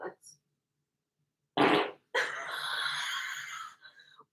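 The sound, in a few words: fart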